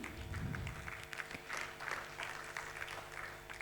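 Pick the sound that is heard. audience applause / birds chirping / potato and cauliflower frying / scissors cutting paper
audience applause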